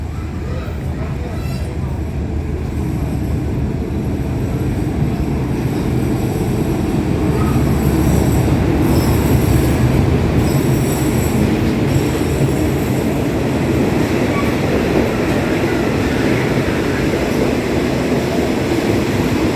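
A Hitachi-hauled train rumbles steadily into Si Sa Ket station, Thailand, with a continuous loud roar, rattling wheels and faint squeals, while a crowd talks in the background.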